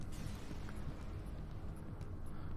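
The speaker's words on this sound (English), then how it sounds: "Artillery beam, go!" An artillery beam weapon fires and explodes in the space-combat video game FTL: a low, rolling boom that stays as a steady, muffled rumble throughout, quiet and without distinct sharp blasts.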